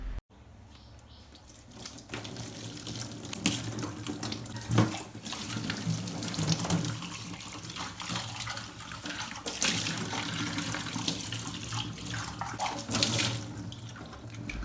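Tap water runs steadily into a kitchen sink while a spice jar is scrubbed clean, a continuous close splashing stream with small clinks and shifts as the jar is handled.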